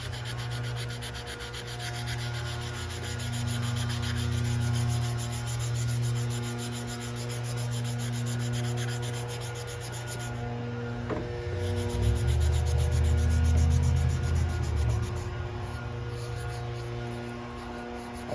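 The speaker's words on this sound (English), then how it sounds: "all this sanding can be done, and even if it slightly alters the shape there" Continuous rubbing and sanding on a carved ceremonial pipe, a steady abrasive rasp over a low hum with no pauses and no talk.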